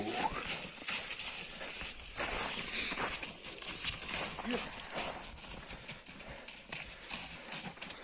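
Hooves of a Percheron draft horse running, heavy rhythmic clip-clop thuds repeating steadily at moderate distance on the ground, with faint background voices.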